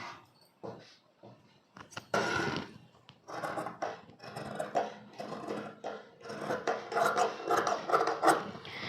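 Scissors cutting through blouse fabric during tailoring, a run of rough, rasping snips and sliding strokes across cloth on a table, close and fairly quiet, growing busier toward the end.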